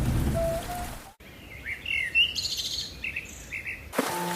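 Rain falls in a steady hiss while birds chirp and call over it, with a short break in the middle before the downpour sound returns.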